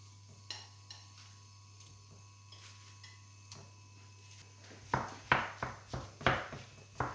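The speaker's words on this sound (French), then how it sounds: "dans ma poêle, je vais faire revenir ma viande hachée" Minced meat browning in a frying pan, stirred with a utensil: scattered light clicks and scrapes against the pan at first, then a run of louder, regular scraping strokes near the end, with a steady low hum behind and no talking.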